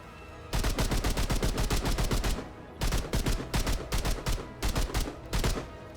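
Rapid automatic gunfire with heavy recoil in Remnant II comes in two long, loud, evenly rhythmic bursts of punchy shots, broken by a short pause.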